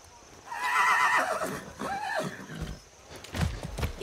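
A horse in the video game Far Cry 6 whinnies loudly in a long, wavering neigh, followed by a shorter snort and a few hoof clops.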